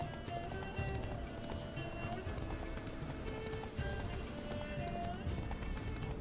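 In The Witcher 3, the horse Roach gallops with steady rhythmic hoofbeats over a continuous game soundscape, close and even in level, with a voice speaking over the running.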